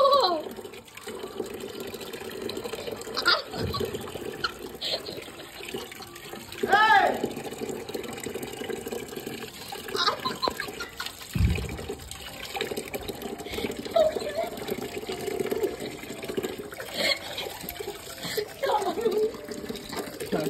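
Water runs steadily from a household tap while a small boy splashes and plays with it, a continuous gushing flow with voices talking over it.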